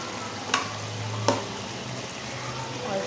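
Chicken for white karahi sizzles in a pan and gets stirred, with two distinct utensil scrapes over a steady frying hiss.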